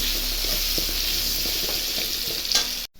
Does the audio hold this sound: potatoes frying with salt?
yes